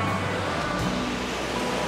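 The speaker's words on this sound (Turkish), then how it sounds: "Dalgalar çok yoğun." Rough surf rolls onto the long sandy beach at Patara as a steady, dense wash of breaking-wave noise, with no voices over it.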